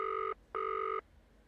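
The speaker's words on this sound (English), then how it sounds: "Okay. It's ringing." A video game phone call rings on a telephone helpline line, giving two electronic ring tones, a short one then a longer one, clear and moderately loud with silence after.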